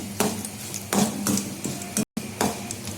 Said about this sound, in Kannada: ಈಗ ಇದಿಷ್ಟು ಉದ್ದಿನಬೇಳೆ ಹಾಕತ್ತೀನಿ. ಫ್ರೈ ಮಾಡ್ಕೊತೀನಿ.